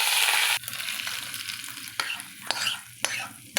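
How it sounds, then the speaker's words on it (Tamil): Mustard seeds crackle and splutter in hot oil during tempering for arachu kalakki, a steady close sizzle punctuated by sharp pops. There is no talk. "கடுகு வந்து பொரியுது."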